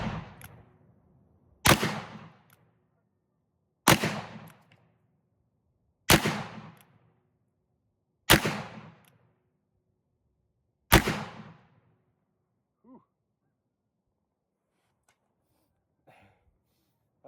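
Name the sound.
New Model Army revolver firing shots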